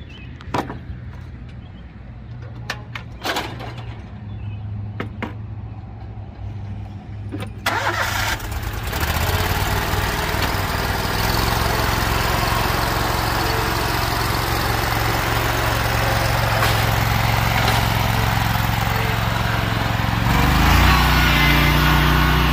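A riding lawn mower engine cranks and catches after a few knocks and clunks, then settles into a steady, fairly loud running drone that rises slightly near the end.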